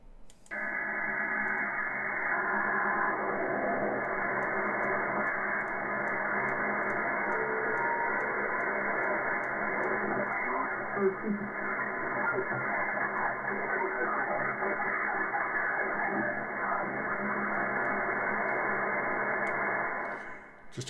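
Steady band-limited hiss and static from a radio receiver tuned to the 160-metre band through a magnetic loop antenna, continuous and fairly loud for the whole stretch with no voices.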